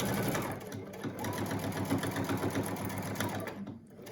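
A sewing machine stitches elastic onto a surgical mask in steady, close, continuous runs, its motor whirring with a rapid needle rhythm and pausing briefly near the end.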